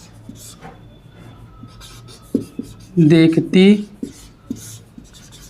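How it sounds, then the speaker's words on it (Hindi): Chalk or marker writes Hindi words on a board during a class, a few short scratchy strokes with one louder stretch in the middle as a teacher talks. "इन शब्दों को जो मैं लिख रहा हूं"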